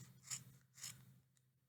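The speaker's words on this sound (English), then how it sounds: "I'm running my scissors underneath the loops" Scissors slide underneath yarn loops of a pom pom bundle, giving two soft, faint rasping snips close to the ear, followed by a quieter tick, with no talk.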